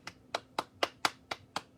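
Hand clapping in a slow, even rhythm, seven sharp claps close to the listener and spaced about a quarter second apart, alone with no voices.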